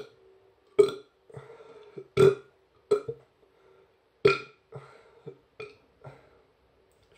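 A man burps after drinking Krombacher wheat beer. There are several short, throaty belches in an uneven series, close and clear, with quiet gaps between them and no talking.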